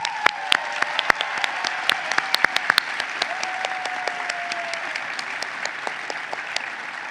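Honors Convocation crowd applauding the platform party at a university ceremony, a dense sustained patter of many hands that stays even and fills the whole stretch, with a faint tone lingering beneath.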